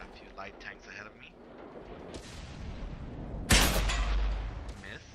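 A tank cannon in World of Tanks on Xbox 360, an FCM 36 Pak 40 tank destroyer, fires once as a loud, sharp blast that booms and rolls away over a constant rumble of battle noise.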